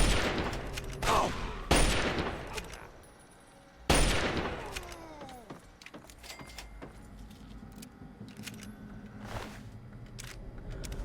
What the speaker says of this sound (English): Why were they doing so much damage with just hunting rifles?